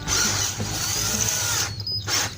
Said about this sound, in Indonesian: Kita langsung bor aja ya di bagian lubang yang akan kita perbos dengan recoil ya teman-teman ya.